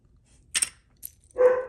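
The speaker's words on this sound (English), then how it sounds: "Sorry, my dog's barking." A dog gives a couple of short barks, one sharp yelp and a lower woof, close by in an otherwise quiet room.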